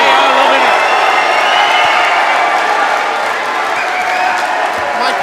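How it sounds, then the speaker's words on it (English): An arena crowd at a live MMA fight night in Tenby cheers wildly in a loud, sustained roar of shouts and whoops that stays steady throughout. "The crowd have gone absolutely wild. They are loving it."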